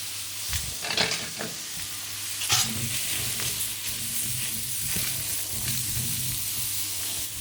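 Mushrooms sizzle steadily in a pan as they are stirred and tossed, with clattering scrapes early on over a constant close frying hiss.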